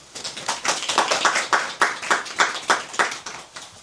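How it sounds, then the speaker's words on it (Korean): An audience claps after a university lecture, steady rhythmic applause from a modest crowd, close and fairly even throughout. "다시 한번 큰 박수 부탁드립니다"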